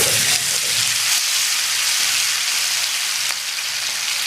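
Marinated tandoori chicken pieces fry in smoking-hot oil on a tawa, giving a loud, steady, broadband sizzle that holds evenly with no talk.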